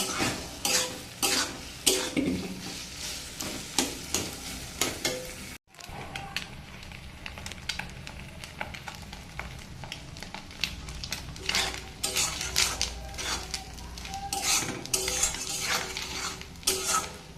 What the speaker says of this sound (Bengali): খুব ভালো করে নেড়ে চেড়ে ভেজে নিতে হবে